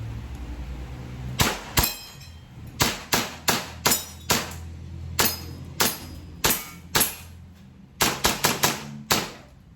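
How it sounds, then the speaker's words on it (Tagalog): An EMG Combat Master airsoft pistol with a fixed outer barrel is test fired, a string of sharp close snapping shots, some singly and some in quick bursts, each followed by a short metallic ring, with no talking. "test fire natin mga master."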